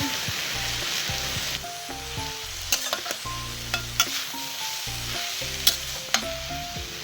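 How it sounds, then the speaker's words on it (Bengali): Cabbage cooking in a pan with chili powder, coriander powder and salt, stirred with repeated scrapes and clinks over a steady sizzle, under quiet background music with no speech. "এগুলো দিয়েই আমি ভালো করে নেড়ে নিচ্ছি"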